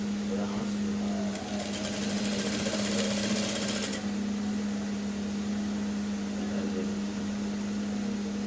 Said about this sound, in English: So now the next thing is to sew the lining the same way, and then the back panel.